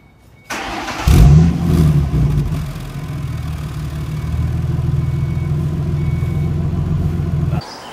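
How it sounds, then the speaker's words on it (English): A 2005 Ford Mustang V6 engine with a bad exhaust setup cranks and fires up with a loud rumble, then runs on with a rough, droning exhaust note, with no voices. "That footage of how bad the exhaust was, I'll show you to you guys right now."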